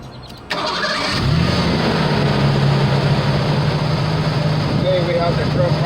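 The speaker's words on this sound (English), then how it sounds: "I'm gonna start the engine." A 1987 Ford truck engine cranks briefly and fires up, then settles into a steady, loud running idle close by, with a low hum sustained through the rest of the clip.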